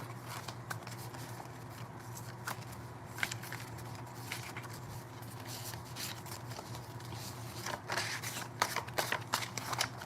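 Tarot cards being shuffled at close range, quiet repeated riffles and soft slaps of card stock against a low background hum.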